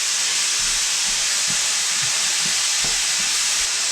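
Jalapeno and garlic mixture sizzling hard in a hot pan while cooking Mongolian-style snipe, a steady loud hiss with a few soft clinks, no talking.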